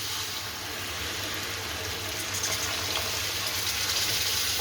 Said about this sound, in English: Adding 1 cup of water.